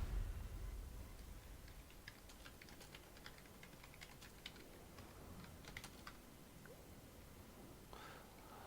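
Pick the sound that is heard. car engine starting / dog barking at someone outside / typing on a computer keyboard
typing on a computer keyboard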